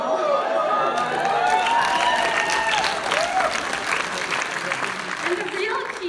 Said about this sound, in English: This one I think you guys will clap for.